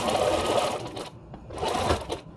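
A sewing machine stitches a fabric face mask in two close bursts of rapid needle clatter, separated by a short pause.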